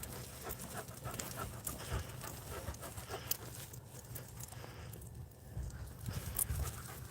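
A dog on a leash pants rapidly and continuously up close, with rustling and footsteps in the background throughout.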